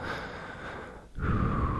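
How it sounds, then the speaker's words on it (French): A close, soft inhalation hisses steadily for about a second, then after a brief pause a fuller, louder exhale or deep breath follows in a quiet setting. "On va faire une grande respiration profonde."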